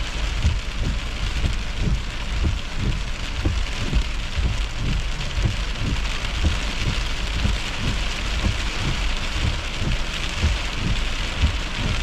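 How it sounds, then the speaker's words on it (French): Small hail falls during a storm chase, a dense, loud, steady pattering close by with soft low thumps running underneath. No voices are heard. "Petite grêle."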